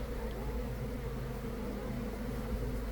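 Bees swarm and buzz around a wild hive and the small box holding the queen, a steady, close, continuous drone with no pauses.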